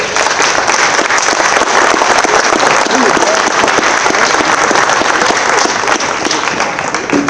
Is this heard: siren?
no